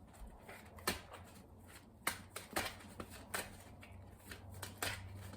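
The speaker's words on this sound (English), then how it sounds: "Let's do two major shuffles and see why this card is here for you." Soft, intermittent riffling and tapping of tarot cards being shuffled, several quick bursts at irregular intervals, close and fairly quiet.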